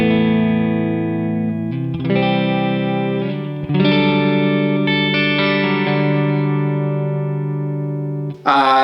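Electric guitar chords through a reverb pedal, played from a cab amp into a recording interface, ring out one after another, each sustained with a lush reverberant tail, ending with a brief bright strum.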